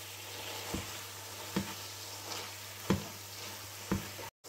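Minced meat sizzles steadily in a pan with cumin and spices, a soft continuous frying hiss broken by four distinct scraping stirs spaced about a second apart.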